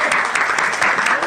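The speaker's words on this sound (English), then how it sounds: "Another round of applause, please." Steady audience applause at a live-streamed mental health community event, a dense even wash of many hands clapping close and loud for the whole moment, with faint voices underneath.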